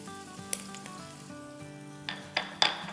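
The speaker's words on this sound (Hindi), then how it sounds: "तो बस इसको हम अराउंड 1 मिनट के आसपास सॉटे करेंगे" Chopped garlic and ginger sauté in hot oil in a pan, giving a steady, moderate sizzle with a few sharp clinks of a spoon near the end over soft background music.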